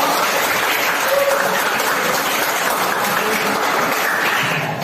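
A classroom group applauds a student named Kristio before his persuasive speech practice, a steady dense clapping that stays loud and even for the whole stretch, with faint voices beneath.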